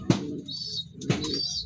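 A pair of egg-laying domestic pigeons coo twice in a row, each round throaty call followed by a thin, high whistling tone, near and fairly clear.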